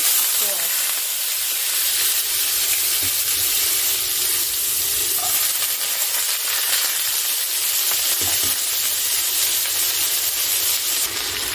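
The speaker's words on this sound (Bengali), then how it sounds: "এবারে আমি কিছু সবজি কেটে রেখেছিলাম সেগুলোকে দিয়ে দিচ্ছি এর মধ্যে রয়েছে আলু পটল" Cut potato and pointed gourd fry in a hot pan with a loud, steady, close sizzling hiss that continues without a break throughout.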